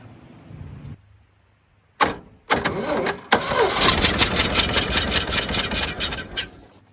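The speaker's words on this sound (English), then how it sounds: "she started on 5 cylinders" A 1970s fishing boat engine is cranked and catches, running unevenly on five cylinders: a brief low hum, a pause, bursts of cranking, then a loud rough idle that continues to the end.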